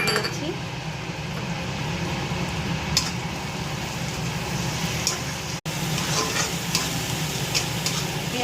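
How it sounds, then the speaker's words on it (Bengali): Onion frying with ginger-garlic paste in a pan, a steady close sizzle with occasional clinks of a utensil, a brief cut midway, no clear speech. "পেঁয়াজটা ভালো করে ভেজে নিচ্ছি।"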